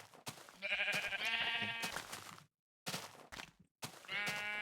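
Sheep in the Minecraft video game bleat several times in quick succession, a bunch of wavering calls separated by short silences, close and clear with no voices.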